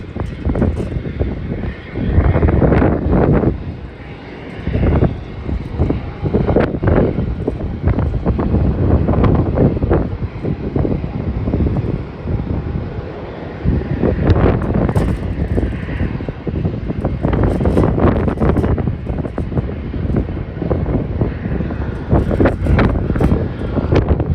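Wind blows hard at Melbourne Airport, a loud, gusty rumble buffeting the microphone throughout, with a faint aircraft engine drone underneath.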